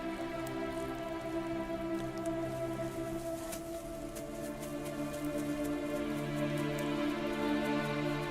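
Steady rain of East Africa's long rainy season falls continuously at moderate loudness, a dense patter over a sustained tonal backdrop with no voices.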